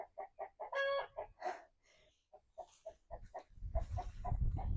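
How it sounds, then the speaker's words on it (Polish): Rooster crowing with clucking hens in a rural country garden, a series of close, sharp clucks and a clear crow, followed by a louder flurry of clucking over a rising rustle of background noise. "Kogut chyba też jest podekscytowany."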